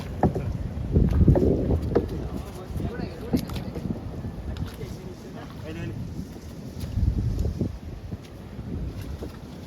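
Boat motoring on a river with wind buffeting the microphone, low engine and water noise rising and falling, with faint voices in the background.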